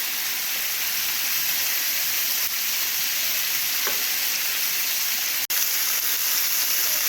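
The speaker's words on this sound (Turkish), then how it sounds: "Kızaran kanatlarımızı çeviriyoruz." Steady, dense sizzling of chicken wings frying in a pan, loud and continuous with a brief dip near the end.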